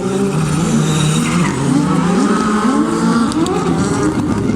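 Rally car of driver Cédric Dececco launching onto a stage at the 2021 Rally de Wallonie: a loud, sustained engine roar with rising and falling pitch as the car accelerates, continuous throughout.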